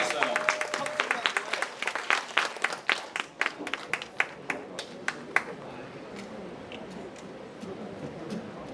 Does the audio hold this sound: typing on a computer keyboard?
no